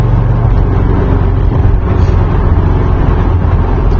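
A 1981 Mercedes 300CD turbo diesel coupe with a four-speed manual runs at full throttle on 13 psi of boost, giving a loud, steady, close engine drone with no gaps or talk.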